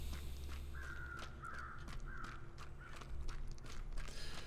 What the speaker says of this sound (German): die Krähen kreisen ja dennoch weiter hier über die Leiche